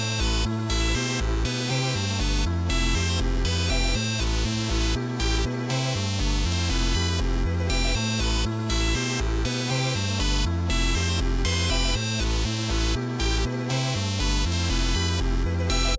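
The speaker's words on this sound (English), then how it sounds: "once we add this vocal phrase, our full melody is gonna sound like this" A loud electronic beat loops with punchy drums and a repeating synth melody, chopped vocal fragments stuttering through it in a steady rhythm.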